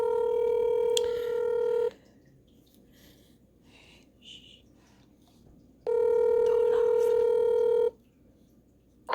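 A phone call rings out with two loud, long electronic ringback tones separated by a few seconds of near silence, heard up close.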